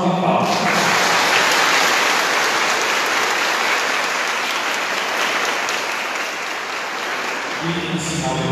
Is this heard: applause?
yes